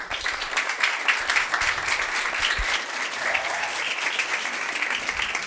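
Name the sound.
applause from audience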